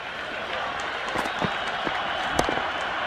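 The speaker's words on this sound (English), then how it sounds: "There's a buzz, a real buzz coming from the stands." Enthusiastic cricket crowd at an India versus Pakistan T20 World Cup match, a steady dense roar of buzzing spectators in the stands with scattered claps and cheers rising through it.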